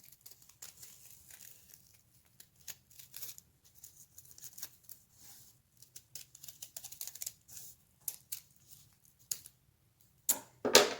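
Scissors snip through folded paper to cut out a heart shape: a series of small, close crisp snips and paper rustles, building to a louder crinkle and cut at the end.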